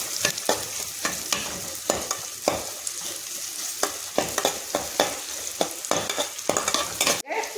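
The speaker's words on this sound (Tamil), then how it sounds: "வெங்காயத்தை போட்டுக்கலாம்" Onions frying in a pan for a ladies finger kara kuzhambu, with steady sizzling broken by repeated stirring scrapes and clinks of a utensil against the pan, close and continuous.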